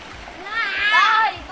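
Water splashing in a river as people do laundry nearby, a short rushing splash rising and fading over about a second, close by, with a voice under it.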